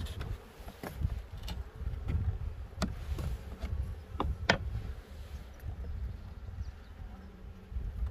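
Honeybees at an open hive during a spring inspection hum in a constant, close, mid-pitched swarm drone, with individual bees zipping past the listener now and then in short, louder passes.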